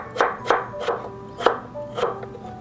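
A knife cuts halved potatoes into flat half-moon slices about 0.5 cm thick on a cutting board. Five crisp, close chops fall in an even rhythm, each a short knock with no talk over them.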